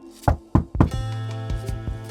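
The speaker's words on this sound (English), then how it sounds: "Then she knocked." Three sharp knocks on a door in quick succession, close and clear, followed by a steady sustained tone.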